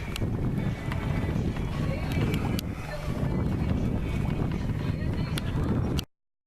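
A sailboat under sail on a close reach at a little over 5 knots, with steady rushing water and wind buffeting the microphone, a continuous broad wash with faint creaks and ticks.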